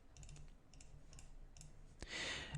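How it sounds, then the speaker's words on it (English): Soft, sparse key clicks on a computer keyboard while entering code, ending in a brief louder burst of rapid keystrokes, close and quiet. "let's just type in just anything really"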